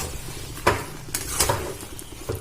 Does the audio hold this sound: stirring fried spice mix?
yes